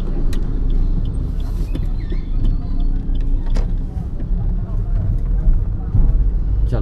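A taxi car rolls down a slope toward the Lakshman Jhula road, giving a steady, close engine and road rumble throughout, with voices mixed in.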